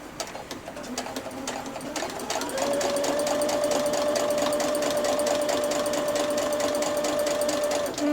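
A sewing machine stitching fabric with a presser foot runs in rapid, even clatter, speeding up into a steady motor whine near the end of a seam, close and loud.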